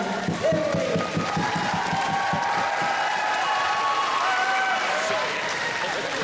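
Crowd applause and cheering at an anime convention opening ceremony, sustained clapping mixed with whoops and shouts from a large audience, with voices calling out over the noise throughout.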